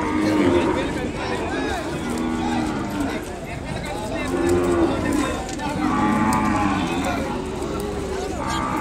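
Ongole cattle lowing at the crowded Kodad cattle market, several long, fairly close moos recurring through the stretch with steady background bustle.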